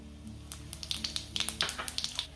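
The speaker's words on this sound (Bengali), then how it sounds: "তো তেজপাতা বাদ দিয়ে বাকি সব ফোড়নটাই আমি দিয়ে দিচ্ছি তেলে।" Whole spices crackling and sizzling in hot oil for a Bengali fish kalia, a quick run of sharp little pops and spits over a soft steady hiss, close and fairly quiet.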